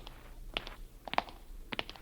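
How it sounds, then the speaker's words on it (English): Footsteps on a hard floor near a YMCA gym: three spaced, moderately faint steps in slow rhythm over a quiet, hissy background, alone without talk. "I hear footsteps behind me"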